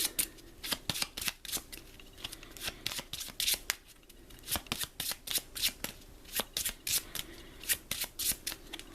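A deck of playing cards is shuffled repeatedly, crisp riffling bursts coming in quick succession close by, with no talking.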